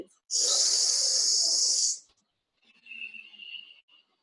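A hissing yoga breath is drawn in through clenched teeth as one loud, sharp hiss lasting about a second and a half, followed by a softer, breathy exhale.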